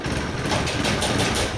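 A motorbike engine, just past its break-in period at about 2000 km after service, hums steadily and fairly loudly at close range for a brief moment, with no voices.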